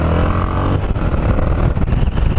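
A motorcycle rides at about 30 mph on a path, its engine a loud close rumble with wind buffeting and rough fluctuations, no talk.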